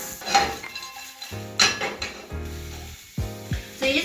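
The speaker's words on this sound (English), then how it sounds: "And you can hear the sizzle coming out from it." Whole star anise and spices sizzling in a hot pan while making Vietnamese chicken pho, with loud clattering of cookware and utensils breaking in repeatedly over the steady frying hiss.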